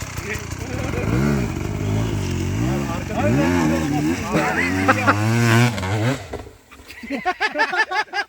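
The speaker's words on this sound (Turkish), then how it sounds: "Bravo bu motoru gene yukarı attı." Enduro motorcycle engine revving hard while climbing a wall ramp at a dirt event, a loud sustained roar with rising pitch sweeps, then sputtering bursts toward the end, with voices talking over it.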